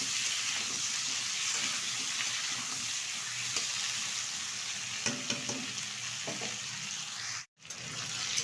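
Chopped tomato is stirred into kohlrabi and potato frying in oil for a fish curry, giving a constant close sizzle with light scraping stirs and a brief break near the end.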